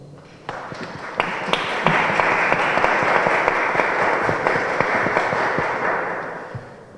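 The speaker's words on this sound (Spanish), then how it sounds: "Lo recibimos con un fuerte aplauso." An audience at a family law conference applauds loudly, a dense and steady wash of clapping that starts abruptly, holds for several seconds and then tapers off.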